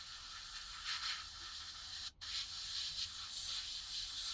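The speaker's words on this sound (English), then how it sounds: "spray it off so that you can see it's coming off" Steady hissing spray of paint thinner from a spray can onto a stripped part, continuous and close, with one brief pause halfway before the spraying resumes.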